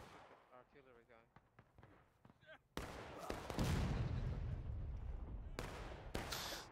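A booming artillery cannon shot in the Civil War shooter War of Rights cuts in after talk, followed by a long rolling rumble, with a second sharp blast near the end during a large 170-player battle.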